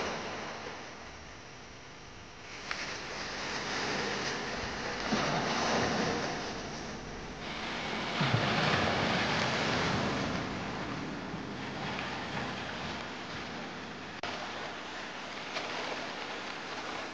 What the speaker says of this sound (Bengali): সেন্ট মার্টিনের ঢেউগুলো বেশ মৃদু, কক্সবাজারের মতো খুব জোরে জোরে হয় না